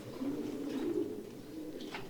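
A silver racer pigeon coos up close in low, throaty rolling phrases, with softer coos following, and no one speaking.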